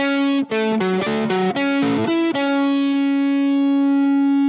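Electric guitar picks out an arpeggio as quick separate notes with a distorted, effects-laden tone, then lets the last note ring out and fade alone.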